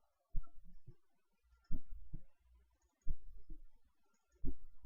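Four separate pairs of mouse clicks, each a quick double click, spaced about every second and a half, close and fairly distinct against a quiet room while the Ctrl key is held to select words in Word 2010.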